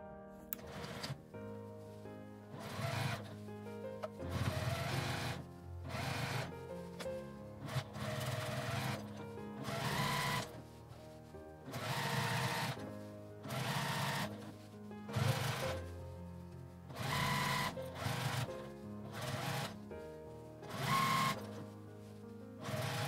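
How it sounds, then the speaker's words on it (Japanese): A sewing machine runs a topstitch around the edge of a fabric A4 tote bag, a steady close mechanical whirr broken into repeated runs with short stops between them. "端ミシンを1周かけます。"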